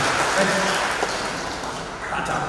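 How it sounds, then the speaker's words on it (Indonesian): An audience claps together during a motivational talk, with steady applause that stays fairly loud and even across the short moment. "Tepuk tangan dengan kita."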